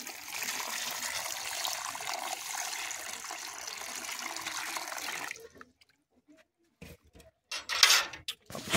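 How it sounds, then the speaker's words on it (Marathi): Water runs steadily into a pan holding freshly caught fish, a continuous close trickle and splash for about five seconds, then stopping, with a few brief splashes and clatters afterward. "यामध्ये पाणी टाकतो आता पहिलं."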